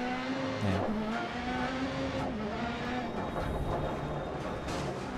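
Rally car engines roar in Dirt Rally at the Höljes track in Sweden as a Peugeot passes, a loud sustained drone with rising and falling revs and occasional tire scrub, no speech.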